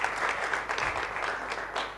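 A conference audience claps for panelists at a multi-stakeholder dialogue, a brief, steady patter of applause in a room, moderately loud throughout.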